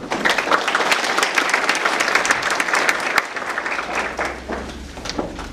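Sustained audience applause from a crowd at a factory industrial-park safety convention, dense steady clapping for several seconds that thins and fades toward the end, with no talking.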